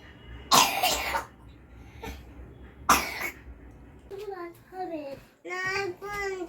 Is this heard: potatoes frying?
no